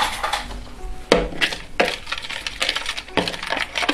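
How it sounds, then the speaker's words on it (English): Beef and bibimbap sauce sweetened with brown sugar get stirred together in a bowl, giving a run of close clinks and scrapes of a utensil against the dish in uneven bursts, with no voices. "basically we're gonna be mixing the sauce and the meat together"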